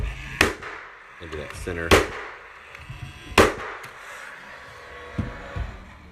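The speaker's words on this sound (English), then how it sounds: "Take my nail gun and pop a few" Nail gun fired into a stair return tread, several sharp percussive shots spaced a second or more apart, close and loud, with brief talk between the bangs.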